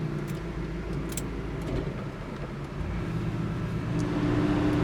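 A 1969 Chevrolet Camaro Yenko-style car drives down the road on a hot day, heard from inside as a steady low engine and road rumble, moderately loud and unbroken.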